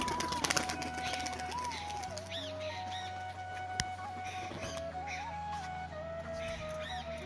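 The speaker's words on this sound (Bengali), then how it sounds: "মাদিটা খেঁচায় ঢুকবে বলে দাপাদাপি করছে বাইরে" Black muski pigeons in a display, with soft cooing, a few quick bursts of wing flapping near the start and scattered rustles, close by over a steady low hum with faint tonal background sounds.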